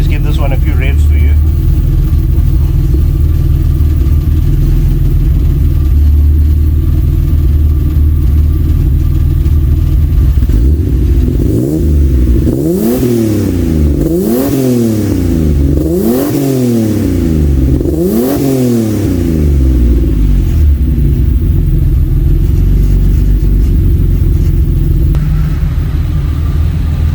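Turbocharged VR6 engine, previously damaged with two bad pistons, idling with a steady rumble, then blipped through several sharp rising-and-falling revs in quick succession before settling back to idle, loud and close.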